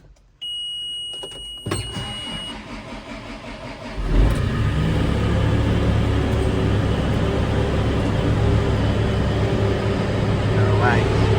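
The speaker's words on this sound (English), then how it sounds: "I'm now getting in the loader." A wheat loader's engine cranks and fires after a few seconds of quiet shuffling, then settles into a loud, steady close idle that runs to the end, with someone speaking briefly beforehand.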